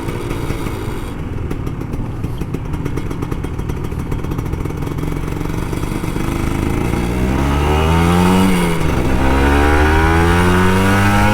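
Kawasaki Ninja RR 150 two-stroke motorcycle engine revving up close, a steady buzzing drone climbing into a louder, higher rev toward the end, with no talking.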